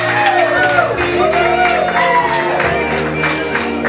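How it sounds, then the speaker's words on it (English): Wedding reception guests cheer, whoop and clap for the mother of the groom, a lively crowd of shouts and mixed voices with applause underneath, steady and close throughout. "big round of applause for the mother of the groom, Mrs. Amanda Horton"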